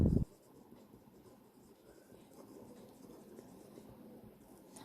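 Pen scratching on paper while writing out the given data for a centrifugal pump specific-speed problem, quiet and continuous after a brief bump at the start.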